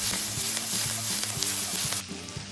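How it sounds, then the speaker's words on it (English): Onions and crispy lamb bits saute in leftover lamb fat with a steady, close sizzle that holds loudly for two seconds, then drops to a softer crackle. "We're going to saute those onions through until they are nice and soft"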